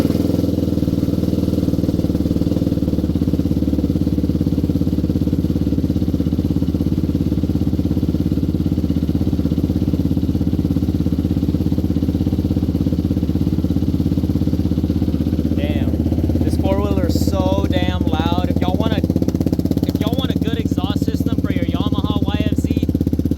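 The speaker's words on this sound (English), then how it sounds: "this is going to be the first startup of my Yamaha YFZ450 with the brand new K&N air filter" A Yamaha YFZ450 ATV engine fitted with a brand new K&N air filter runs loudly and steadily at a close, even idle, with a voice briefly speaking over it toward the end.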